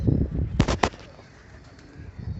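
Pet Gola pigeons kept at home give a brief soft coo with a quick flutter of sound close by, set against a quiet murmuring background.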